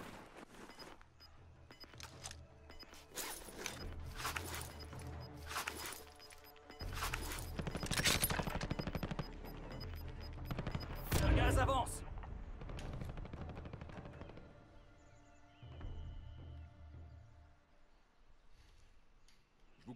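Bursts of gunfire crack around the player in Call of Duty Warzone, rapid volleys and single shots coming in clusters, loudest midway with a heavy impact, while a player talks quietly at times.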